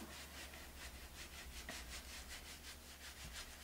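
Paint being rubbed onto a wooden porch sign, a soft scratchy brushing in steady back-and-forth strokes, close but faint and continuous with no speech.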